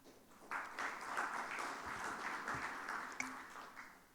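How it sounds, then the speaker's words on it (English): Conference audience applauding at an international tax event, a faint, distant wash of clapping lasting a few seconds with a small knock near the end. "So big round of applause to them."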